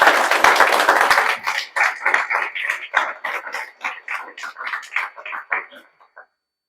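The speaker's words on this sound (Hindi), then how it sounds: "उसके लिए जोरदार ताली बजा दीजिए।" Hearty clapping for successful students at a coaching institute's results celebration: a dense burst at first that thins into scattered individual claps and dies away after about six seconds.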